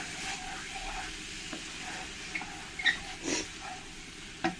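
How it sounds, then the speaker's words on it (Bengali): Tomato and spices sautéing in a pan for a tilapia fish dish, a soft steady sizzle with occasional stirring scrapes and clinks of a spoon, close and moderately quiet. "টমেটোটা দিয়ে দেব। দিয়ে ভালো করে আমি একসঙ্গে কষিয়ে নেব"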